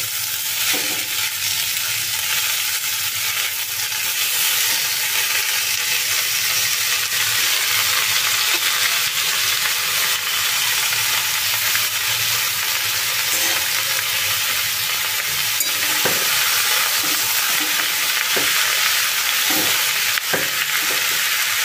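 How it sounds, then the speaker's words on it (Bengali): Watermelon rinds sizzle steadily as they are stirred and fried in a pan, a constant close frying hiss with occasional soft scrapes and knocks of the spatula and no one talking. "এগুলো একটুখানি নাড়াচাড়া করে নেব"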